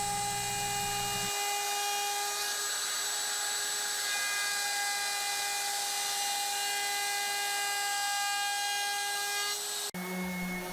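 A router fitted with a chamfer bit cuts along wood edges, giving a steady, loud high-pitched whine that runs almost unbroken for ten seconds before stopping abruptly; a lower hum shows at the start and after the stop.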